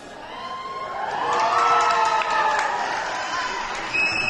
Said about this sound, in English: Giving applause to the mom that was able to get up there and get it.